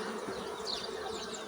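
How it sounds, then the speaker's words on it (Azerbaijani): Honeybees buzz steadily and densely around hive frames opened during colony expansion, a continuous close swarm drone with no talking. "Arılar aqressivdir."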